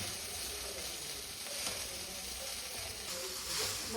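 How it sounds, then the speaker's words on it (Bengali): Egg chow mein stir-fried in a pan with a splash of soy sauce, a steady close sizzle and hiss running throughout with faint stirring scrapes and no talk. "এবার সব কিছু আবার একটু ভালো করে মিশিয়ে নেব।"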